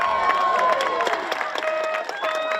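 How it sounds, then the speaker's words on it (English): Spectators clap and cheer beside the water at a rowing race on Lake Karapiro, a steady close burst of applause mixed with crowd noise and whistle-like tones over wind. "The wind picked up, the applause rang out"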